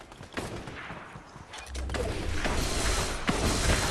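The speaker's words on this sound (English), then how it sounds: "Oh, someone's shooting." Gunfire in the video game Fortnite crackles in a few distant, muffled bursts amid mechanical clatter and ambient game noise, with no voices.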